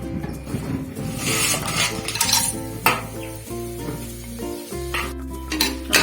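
Whole spices, including cloves and fennel, fry in hot oil for a vegetable biryani, a soft sizzle joined by scraping stirs and metal clinks against the pot, with background music running throughout and no one speaking.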